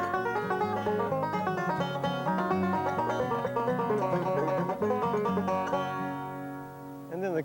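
Banjo picked in melodic style, a bluegrass technique, with a rapid and continuous stream of bright, ringing plucked notes that holds steady and fades with a final ring at the end, no talking.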